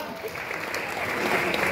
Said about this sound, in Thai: ปรบมือกับเลยนะครับ